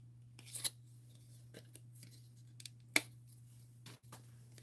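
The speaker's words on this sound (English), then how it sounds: "So I'm just going to cut out my sweater and the hat." Scissors snip through card-stock sweater and hat shapes for a handmade Christmas card, with a few sharp, separate cuts over a steady low hum in a quiet room.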